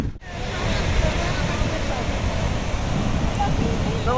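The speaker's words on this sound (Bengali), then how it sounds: "সমুদ্র সৈকত, তার গর্জন আপনারা শুধু শুনতে পাচ্ছেন" At Kuakata beach in Bangladesh, strong wind and roaring sea waves make a loud, constant rush of noise, buffeting close to the microphone with no break.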